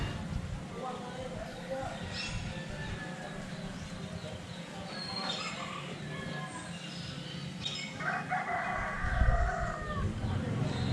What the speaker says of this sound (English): So I'm hearing roosters.